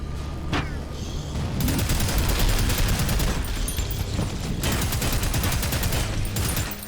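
Sustained rapid fire from a dual-barrelled weapon in the retro-style shooter Prodeus, loud and close, running in long volleys broken by short gaps, with booms and mechanical clatter.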